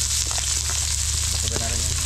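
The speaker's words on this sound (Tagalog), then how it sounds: "Lagyan natin ng bawang. Sibuyas." Garlic and onion fry in hot oil in a pan, making a steady, dense sizzle that stays close and loud throughout, with faint stirring scrapes beneath it.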